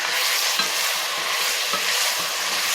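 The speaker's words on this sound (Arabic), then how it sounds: "اللحمه ريحتها جميله جدا وهي بتتشوح كده في السمن والفلفل الاسود" Meat sautéing in ghee with black pepper for Egyptian okra stew, a steady close sizzle and crackle with occasional soft stirring scrapes, no voices over it.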